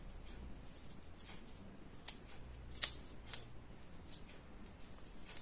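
Scissors snipping a piece of paper in two while making a dinosaur scrapbook album page: a few faint, quiet cuts, with one sharper snip standing out amid soft rustling.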